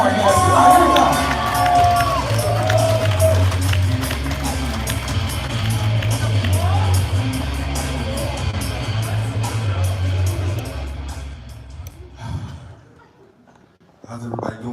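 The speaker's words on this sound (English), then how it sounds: "Keep clapping for Jeff Warren, guys." Clapping and cheering from a comedy club crowd at The Vixen rolls on loudly with whoops and chuckles, then thins and fades out near the end as a voice begins speaking.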